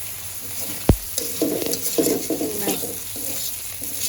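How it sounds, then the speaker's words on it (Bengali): Prawns and raw jackfruit are fried in a pan with oil until reddened and stirred, giving a continuous close sizzle. A sharp clank of a utensil sounds early, followed by rhythmic scraping strokes. "সুন্দর করে লাল লাল করে ভেজে নিচ্ছি"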